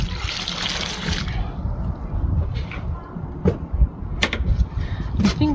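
Water poured from a watering can onto a freshly planted potted tomato plant, a steady trickling splash that fades into quieter dribbles with a few light knocks near the end.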